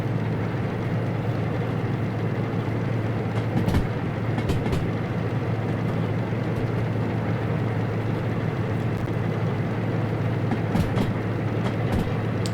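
Heavy freight train of over 800 tons running in Derail Valley, a constant close rumble and rolling drone with occasional sharp clacks and clunks over track joints, no talking.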